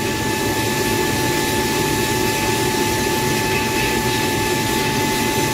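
Bead blasting a Weber 32/36 DGAV carburettor at low pressure, a steady, loud, continuous hiss and roar of compressed air and abrasive that holds unchanged throughout.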